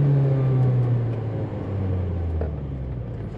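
A 1991 BMW E30 M3 with the 2.5L four-cylinder engine driving on the road, a steady, throaty engine drone that gradually drops in pitch as revs ease off, heard from inside the car.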